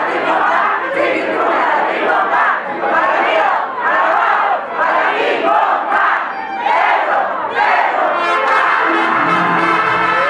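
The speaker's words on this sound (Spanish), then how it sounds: "Venga la porra fuerte para Pedro Infante. Dale, la una, la dos y a las tres." A large crowd at an anniversary memorial for Pedro Infante chants a loud, rhythmic cheer in repeated surging bursts of massed voices.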